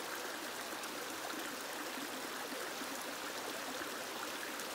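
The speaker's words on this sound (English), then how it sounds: "And just listen to the water flowing." A flowing stream rushes steadily and evenly, a close, constant wash of water with no voices over it.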